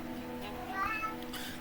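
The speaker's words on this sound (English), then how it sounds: "Why are you meowing so much?" A house cat meows once, a short rising-falling call in a room with a constant background hum and faint game music underneath.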